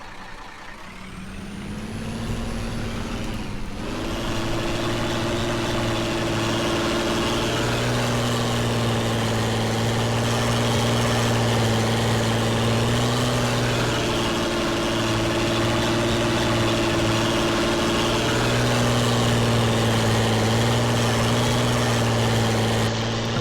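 A tractor engine in a farming video game clears tree stumps, starting up then settling into a loud, steady mechanical drone with a humming tone that shifts slightly as the load changes.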